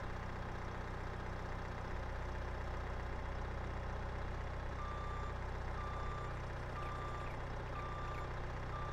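A truck's reversing alarm in Farming Simulator 22 beeps steadily at an even pace over a constant idling diesel engine hum, moderately loud and with no voices.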